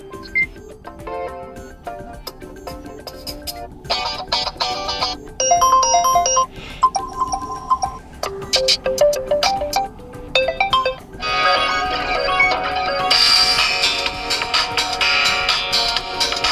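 Pre-installed ringtones on an Infinix Smart 6 HD phone play one after another, a run of short, loud electronic melodies with chimes and bright tones, each separated by brief pauses.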